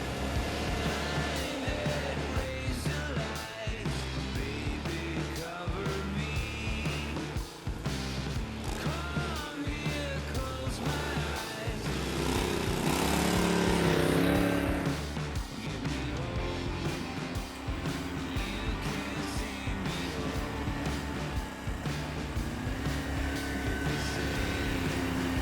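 Caiman Expert tracked ATVs grinding through snow on a winter trail, a continuous loud engine drone with rattling track noise that swells to a louder revving stretch midway before settling back.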